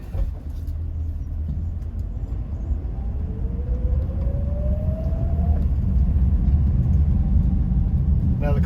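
A 1964.5 Ford Mustang pace car with drum brakes on all four corners drives along, its engine a steady low rumble from inside the cabin that grows slightly louder and fuller, with a faint rising whine partway through.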